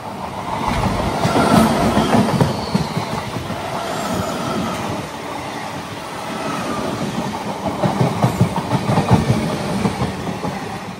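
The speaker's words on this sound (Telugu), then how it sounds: "లోకల్ ట్రైన్ ఏదో వస్తుంది" A local train rolls past at close range, a loud sustained rumble with rhythmic clickety-clack of wheels over rail joints that swells again toward the end.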